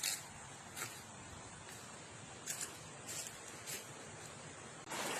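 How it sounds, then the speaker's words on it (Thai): A waterfall in a forest along a nature trail makes a faint, steady rushing wash that runs unbroken throughout, with a few brief brighter swells of water noise. "ได้ยินเสียงน้ำตกแล้ว"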